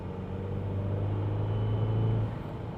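A manual BMW 320d fitted with a 330d turbo pulls hard in fourth gear on a dry road, a steady droning engine rumble that rises slightly in pitch before easing off near the end.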